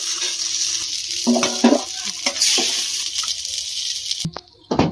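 Pasta stirred with soy sauce in a pan sizzles loudly under a series of spoon scrapes and knocks against the pan, then the sizzle cuts off abruptly near the end, leaving a quieter tail with a final clatter.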